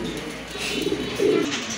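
A pair of high-quality pigeons coo nearby, soft throaty calls rising to a clearer, louder coo near the end over faint background hiss.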